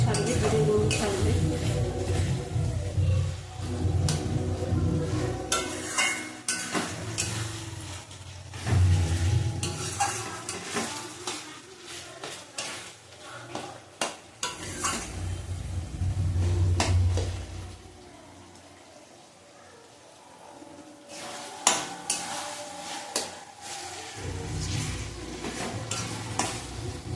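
Spices with cumin sizzle and fry in a pan for a chana paneer dish, while a spoon stirs and scrapes against the metal in repeated rounds, close and fairly soft, with brief quieter stretches.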